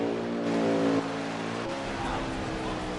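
A race car pulling out of the pits in a sim racing league event at Sonoma, its engine droning loudly and steadily with a clear gear change about a second in, the pitch stepping down before building again.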